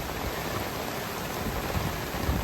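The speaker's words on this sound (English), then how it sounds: "Because the rain's right up to us." Rain falls steadily around a sailboat at sea, a dense, even wash of drops hissing close and loud with no voices.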